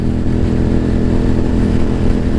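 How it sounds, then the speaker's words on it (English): A motorcycle engine drones steadily and loud while riding on a windy day, a continuous close roar through the whole short stretch with no talk. "Let's just speed up a little bit."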